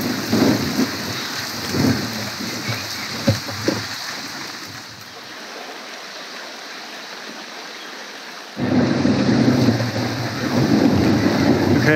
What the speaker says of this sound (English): it's not really raining that much, but there's thunder